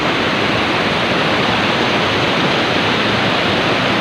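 Tili Ti Nuang waterfall in Bagulin, a dense, unbroken roar of falling water heard up close and loud, with no other sounds standing out.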